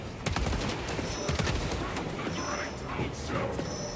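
Bursts of Warhammer 40K Space Marine 2 gunfire crack in quick succession, faint and somewhat distant, then thin into scattered noise.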